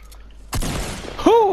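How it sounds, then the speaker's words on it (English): A single loud shotgun blast in the Fortnite battle royale video game, a sharp broadband boom followed by a short decay, with a brief tonal game effect right after. "I shotgun him in the air, didn't kill him though."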